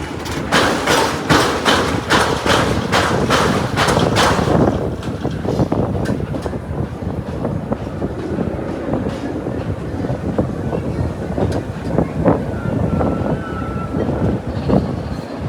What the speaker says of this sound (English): This is Gold Rusher, which is an aerodynamics family mine train ride built way back in 1971